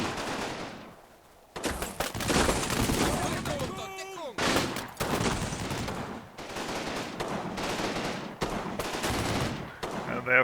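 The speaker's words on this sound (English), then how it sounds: "They have a medium machine gun over here." Machine gun fire in the WWII tactics game Combat Mission Final Blitzkrieg: repeated loud bursts of rapid automatic fire with short gaps between them, after a brief quieter lead-in.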